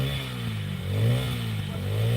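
A motorbike engine runs steadily with rising and falling revs while a young man in rural Leyte, Philippines, pretends to repair it. It stays close and fairly loud, with a few brief surges and no talk.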